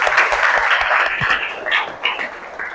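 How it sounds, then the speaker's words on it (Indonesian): Students in a classroom clap together after a call to applaud during a Quran recitation lesson, a fairly close burst of clapping that thins out and fades into scattered claps and room noise. "Tepuk tangan."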